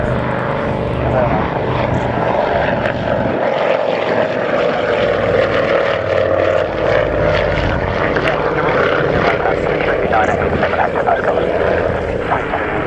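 A Gazelle helicopter flies past at the Scampton airshow, its steady engine and rotor drone holding at a constant level throughout, with a public-address commentator talking over it.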